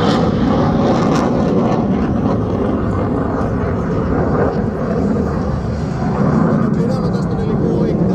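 An F-16 fighter jet roars through an inverted pass at a Hellenic Air Force air show at Tanagra. The powerful broadband engine noise is sustained and loud throughout, with an announcer speaking over it.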